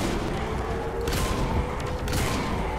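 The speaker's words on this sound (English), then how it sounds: "Double kill with the shotty." Two loud shotgun blasts about a second apart over a dense, noisy game backdrop in Saints Row 4, sharp and close.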